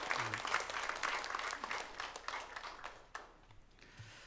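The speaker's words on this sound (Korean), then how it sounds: "다시 한번 하나님께 영광의 박수를 돌리겠습니다." A church congregation at a Sunday service applauding, a full burst of clapping that is strongest at first and then gradually thins and fades toward the end.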